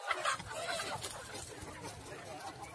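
Mysore native country chickens clucking close by, a short burst of busy fowl chatter with background farmyard noise.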